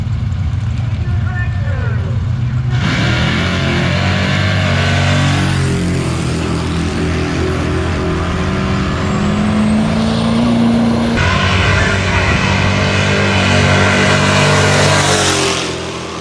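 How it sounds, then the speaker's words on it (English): First-generation Cummins diesel pickup doing a burnout, its engine roaring loud and sustained with a rising rev partway through, while people talk over it. "Big old burnout again."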